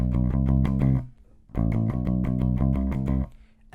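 Bass guitar playing a riff at a sped-up tempo: rapid repeated low notes in two bursts separated by a short gap, loud and clean with no talking.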